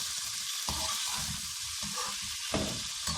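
Potato and spinach saag frying with salt in a pan, giving a steady close sizzle and hiss with occasional soft stirring scrapes, continuous with no talking.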